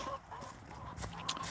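Backyard chickens clucking while they eat, soft scattered clucks and a brief squawk, fairly faint amid outdoor background noise.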